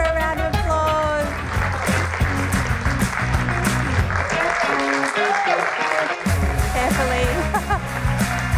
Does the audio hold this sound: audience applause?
yes